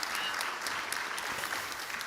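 Steady applause from an audience at a European forum event on a small stage, even and sustained throughout the short stretch with no break.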